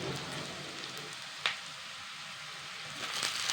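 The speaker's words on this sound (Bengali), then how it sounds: "আমি পেঁয়াজগুলিকে লাল লাল করে ফ্রাই করে নেব" Onions frying in a pan for a Bengali fish curry, a steady soft sizzle with a few sharp crackles and one brief pop near the middle, close and alone.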